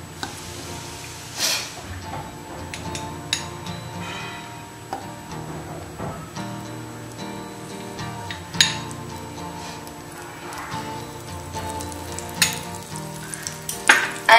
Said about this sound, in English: Now in this wok, I'll be adding butter.